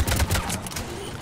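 Rifle fire in the shooter game Mass Effect 3, a quick burst of close, loud shots in the first half second that then fades into a low rumbling tail.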